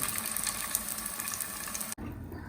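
Ragda patties cooking in a pan, a steady close sizzle and hiss that cuts off abruptly near the end.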